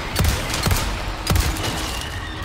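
Gunfire in the video game Resident Evil 4, with two sharp loud bursts of several rapid shots each, separated by about a second, over a steady background din.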